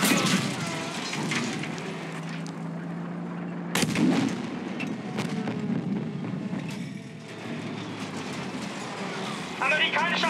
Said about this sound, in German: Amerikanische Artillerie!